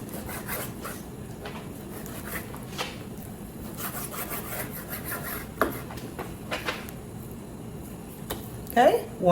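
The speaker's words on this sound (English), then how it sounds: "we're going to cut this in strips" A knife draws through raw pork belly on a board, cutting it into strips: soft, rubbing slicing strokes, fairly quiet and close, with a few sharper taps near the end.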